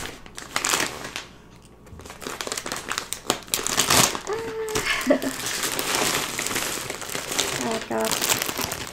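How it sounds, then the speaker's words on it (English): A plastic bag around a Premier Yarns mystery bag of yarn is torn open and handled, giving loud, close crinkling and rustling in bursts, with a person talking briefly over it. "so now I'm gonna open mystery bag number 2"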